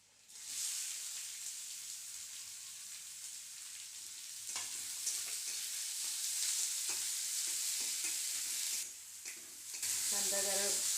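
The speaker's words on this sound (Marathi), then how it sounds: "कांदा जरा गुलाबी रंगावर करायचा आहे आपल्याला." Chopped onion frying in hot oil with curry leaves, green chillies and garlic, stirred in a pan while making vermicelli upma; a steady close sizzle runs throughout with intermittent scraping stirs.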